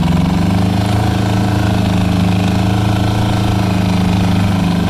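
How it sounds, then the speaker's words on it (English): A steady, loud engine drone from an Arctic Cat 700 diesel quad bike being driven, with a low, constant throbbing hum and no change in pitch, close by and with no voices. "So I thought we'd just take it for a bit of a drive, being as I've got to move it"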